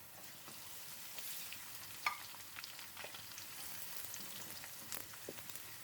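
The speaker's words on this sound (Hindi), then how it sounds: "तब तक इस अदरक को भी फ्राई करते जाएंगे" Sliced onion and ginger fry in mustard oil for a chicken yakhni pulao, a quiet steady sizzle with scattered crackles and a few sharper spatula scrapes, close and without talk.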